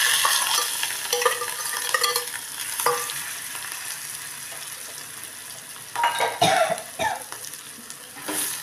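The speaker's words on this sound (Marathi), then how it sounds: "आता त्याला थोडं फ्राय करून घेऊ आपण छान." Bitter gourd frying with cumin in a pressure cooker gives a steady sizzle, broken by repeated scraping stirs of a spoon against the metal, close and fairly loud, with no talking.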